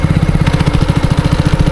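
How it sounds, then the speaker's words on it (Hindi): A motorcycle engine chugs loudly and close by with a fast, even low thump as the rider eases off the clutch and rolls the bike over a speed breaker. "जैसे ही अगला टायर क्रॉस किया, मैंने क्लच को छोड़ा धीरे धीरे और बाइक को आगे बढ़ाया।"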